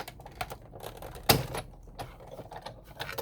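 Scissors or a cutter slicing through folded card stock for a handmade Valentine heart flip card, giving a soft scraping cut with one sharp snip in the middle of faint handling noises.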